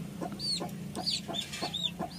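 Hen clucking in a short repeated series of soft, rhythmic calls at close range, with other fowl sounds and a steady low hum in the background; no talk.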